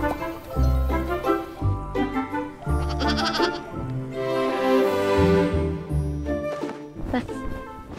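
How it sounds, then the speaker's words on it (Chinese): Sheep on the Hulunbuir grassland bleat repeatedly over a dense, busy background, the calls wavering and overlapping at close range, with a voice speaking alongside. "还有万羊咩咩。"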